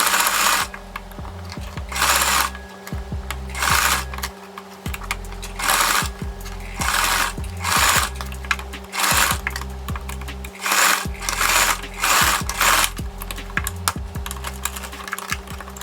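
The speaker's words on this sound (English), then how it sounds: "I'm just going to sew the two lines across this point" A sewing machine stitching a wig runs in repeated bursts of rapid stitching, starting and stopping roughly every second, close and steady with a mechanical whir, no talking.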